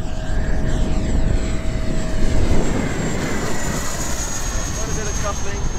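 An FMS Avanti V3 70mm EDF model jet flying knife edge over a grass field gives a high, continuous ducted-fan whine that swells and fades as it passes, with a voice talking over it.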